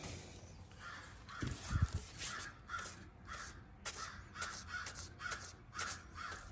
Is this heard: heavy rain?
no